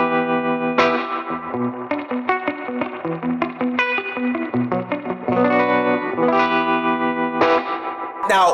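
An electric guitar with Rockabilly PAF pickups runs through spring reverb and tremolo, playing a lively series of twangy notes and chords with pulsing, echoing decay, loud and unaccompanied by talk.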